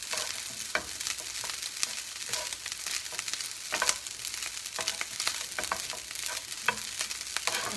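Fried rice being stirred in a pan, a continuous close sizzle broken by frequent scraping and clinking of a spatula against the pan in an uneven rhythm.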